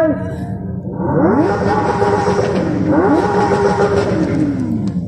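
A Lamborghini SVJ on its standard exhaust revs loudly at a supercar show, two sharp rising blips climbing in pitch and then holding at a high, raspy wail, close by.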